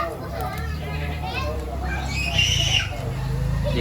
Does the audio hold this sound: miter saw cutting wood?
no